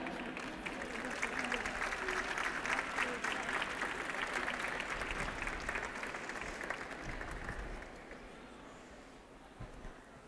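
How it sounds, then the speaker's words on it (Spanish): An audience at a 25th-anniversary architecture graduates' celebration applauds a graduate ambassador of the 2016 class, a sustained dense wash of clapping that holds steady and then thins toward the end. "quiero pedir un aplauso para su embajadora"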